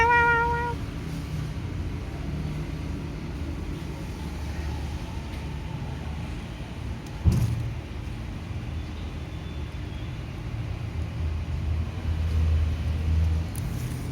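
A cat gives one short meow at the very start, then a low rumbling background carries on with a single sharp knock midway and no voices.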